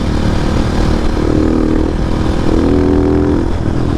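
A Husqvarna 701 single-cylinder motorcycle cruises on a first ride in high sixth gear, its engine a loud, continuous close-up drone with wind rush and a slight rise in pitch.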